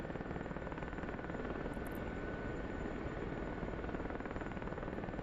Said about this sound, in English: I'm flying the helicopter.